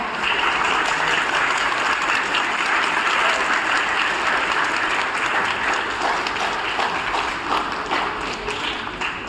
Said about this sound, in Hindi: लगाओ ताली।